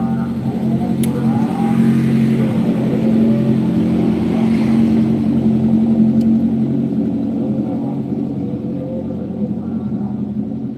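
A loud, steady Honda CBR motorcycle engine drone with strong low harmonics runs throughout, holding a near-constant pitch and easing off slightly toward the end.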